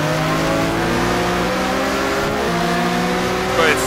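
Race car engines in a sim racing game drone loud and steady as two cars accelerate out of a corner onto a straight, with the layered engine tones rising together and a brief bump near the end.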